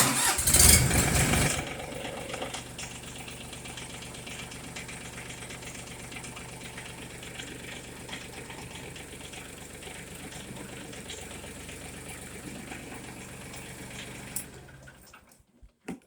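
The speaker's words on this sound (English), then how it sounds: "So to start this tractor, you have to be sitting on the seat, push the clutch in." A Mahindra Max 25 XL HST tractor's diesel engine cranks and fires with a loud rumble, then settles into a steady low idle for a long stretch before cutting off.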